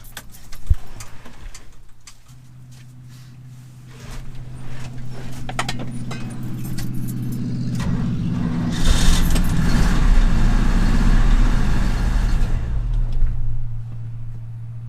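A 1988 Chevy R30 dump truck running on very old gas tries a cold start: a low starter-like drone steps up partway through, then rougher, louder cranking and engine noise swells near the end, close and without talk.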